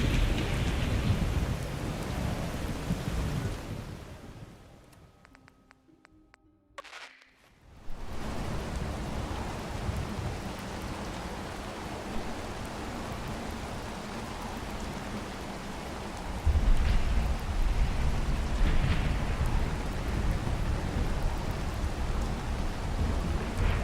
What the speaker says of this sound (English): otherwise I can't hear myself over the storm